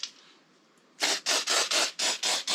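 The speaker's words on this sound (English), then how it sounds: "Now I'm gonna clean a little bit the brake rotor" A rag wiping the brake rotor of a BMW R1200GS motorcycle, giving a quiet hiss followed by six or seven rhythmic, close-up rubbing strokes, with no voices.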